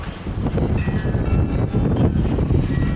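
Steady, loud wind rumbling and buffeting against a microphone outdoors in a snow-covered yard, a continuous low roar with gusty swells and no speech.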